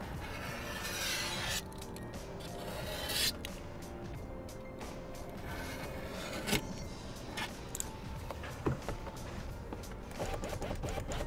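Window tint film being trimmed along its top edge on a car window, done outside: quiet scratchy cutting and rubbing strokes with small clicks and taps, close and without talk.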